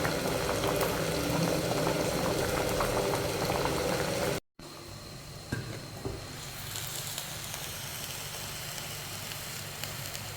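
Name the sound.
rice cooking in a boiling pot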